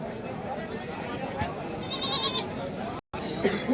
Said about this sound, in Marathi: पाहू शकता टॉप क्वालिटी शेळ्या खामगाव इथे